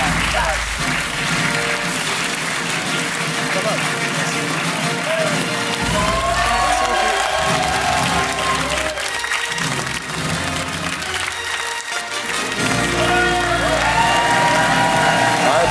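A studio audience on a French television talk show applauds steadily and loudly throughout, with scattered cheers and a voice speaking over the clapping.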